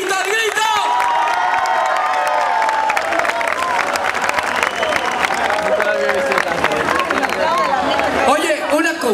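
Audience applause and cheering at a Galician orchestra dance show with rancheras, Orquesta Panorama 2008 in Oza, a dense continuous roar of clapping, whoops and crowd voices filling the whole stretch at close, loud level.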